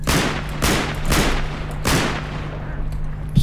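Automatic gunfire in the video game S.T.A.L.K.E.R. Call of Pripyat, loud sharp bursts repeating in a rough rhythm about every half second, with a low steady hum underneath and no talk.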